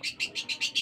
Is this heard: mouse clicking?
no